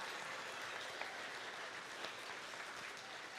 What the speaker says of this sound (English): Let's give a round of applause to all of our participants today.